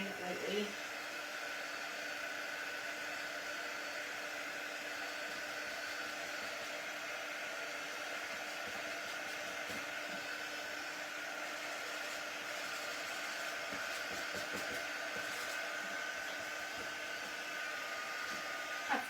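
Hair dryer blowing to dry paint on a wooden box frame, a steady close whooshing whine with a faint tonal hum that continues unbroken throughout.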